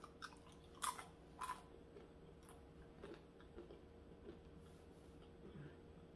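Crunchy dehydrated roasted radishes being chewed, with a few sharp crisp bites standing out early and softer, fainter crunches trailing off amid a quiet, steady background hum.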